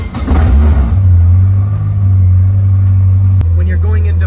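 Honda S2000 engine catching and settling into a loud, steady low idle hum after a brief rising start, with a sharp click near the end followed by faint chirping sounds.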